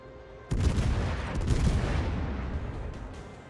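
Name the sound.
cruiser naval guns firing a salvo, World of Warships video game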